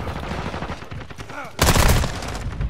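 Rapid close gunfire on the cramped Shipment map in Call of Duty Modern Warfare, a loud burst of shots after a stretch of quieter scattered shooting, with a voice briefly heard among the game sounds.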